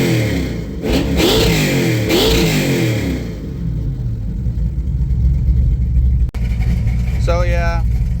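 An LS-swapped S10 pickup's 6.0 V8 blips twice in quick rising-and-falling revs, then holds a loud, sustained high-rpm roar up close before a person starts talking near the end.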